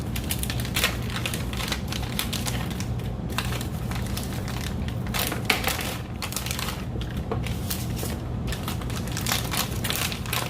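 Shrimp being cut up for fishing bait, a steady dense crunching and crackling of blade through shell that runs continuously at close range, with a low hum underneath and no talking.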